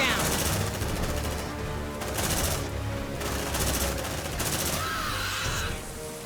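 In the squad tactics game Aliens: Dark Descent, sustained automatic gunfire rattles in repeated loud bursts with short lulls over a constant backdrop of game ambience.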